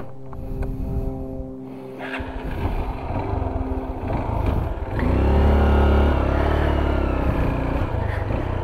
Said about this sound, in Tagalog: Papasukin ko yung motor doon.